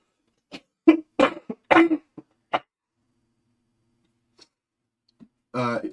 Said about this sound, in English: I'm going to put these down so I can cough